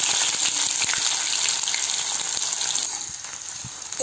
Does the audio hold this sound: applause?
no